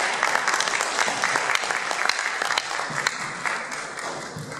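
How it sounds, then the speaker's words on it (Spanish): Audience applause for a speaker at an academic conference talk, with sharp individual claps standing out in a steady round that fades slightly toward the end. "Un aplauso por favor para nuestro compañero."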